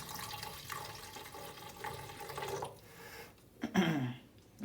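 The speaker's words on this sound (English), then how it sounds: "Let me just pour the solution down here." Descaling solution poured from a container into the water reservoir of a DeLonghi Dedica Style EC685 espresso machine, a close steady liquid trickle that rises into a louder gurgling splash near the end, no talking.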